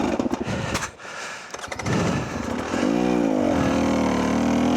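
The electric motor of an Arctic Leopard strains for grip on the Alestrem. Rough, uneven rumbling bursts give way to a loud, steady whine that sweeps up and down in pitch, then holds close and strained.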